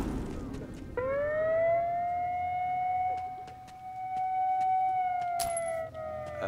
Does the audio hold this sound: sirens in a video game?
yes